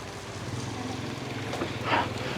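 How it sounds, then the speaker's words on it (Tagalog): Broadband wind noise rumbles steadily across the microphone outdoors, swelling into a stronger gust near the end, with a voice faintly audible underneath. "Hangin-hangin lang yan."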